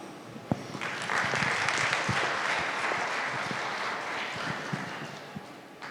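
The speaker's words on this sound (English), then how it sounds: "continue the applause" An audience applauds steadily at a hospitality industry conference session, a dense wash of clapping that holds throughout with a few sharper individual claps near the start.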